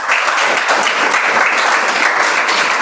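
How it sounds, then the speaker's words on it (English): A Toastmasters club meeting audience applauds a volunteer speaker with steady, even clapping from a room full of people, loud and continuous for the whole stretch without any break. "Guys, round of applause, please"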